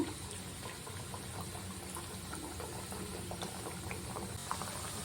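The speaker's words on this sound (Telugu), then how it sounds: "మనం కట్ చేసి పెట్టుకున్న ఈ డోనట్స్ను ఒక్కొక్కటిగా వేసుకొని వేయించుకోవాలి" Cut donuts frying in hot oil, a dense continuous bubbling sizzle with small pops throughout, steady and close.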